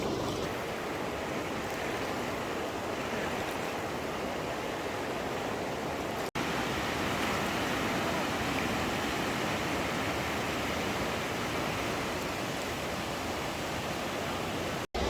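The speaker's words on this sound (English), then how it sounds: "beautiful clear mountain river right next to our campsite" A clear mountain river runs beside a campsite in North Cascades National Park, its steady, close broadband rush of water filling the whole stretch without a break and with no voices over it.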